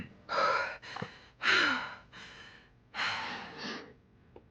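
Heavy, ragged breathing from a character in the Alone in the Dark remake on PS5: six loud gasping inhales and exhales in an uneven rhythm, close and breathy, with no talk over them.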